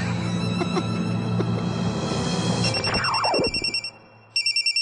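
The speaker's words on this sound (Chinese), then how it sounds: "谁的电话没有关啊？" A mobile phone rings during a cinema screening with a bright repeating electronic ringtone, loud and near, first over a sustained film soundtrack that sweeps away, then the chirping tone pulses on almost alone.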